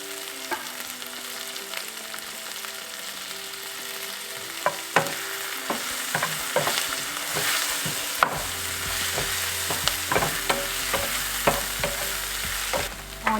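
Sliced onion and green chilies fry with cumin seeds and cloves in a pan, making a steady close sizzle broken by sharp clicks and scrapes of stirring, with no voices.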